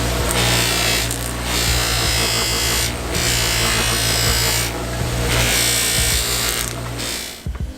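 A power buffing wheel spins against an estate tobacco pipe loaded with buffing compound, giving a loud, continuous whirring hiss that swells and eases in short passes.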